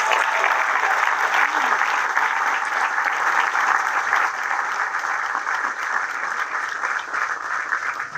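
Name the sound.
applause for a band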